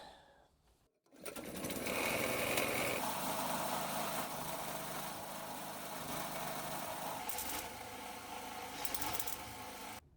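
A portable generator powering an arc welder while holes are welded up on a narrowboat's steel frame, giving a steady loud mechanical drone with buzzing overtones that runs continuously after a brief quiet start.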